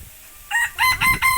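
A rooster crows at a farmyard, its call rising in a few harmonic bursts over a second, fairly close and clear above low background noise.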